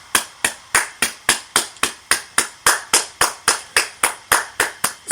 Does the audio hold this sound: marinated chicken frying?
no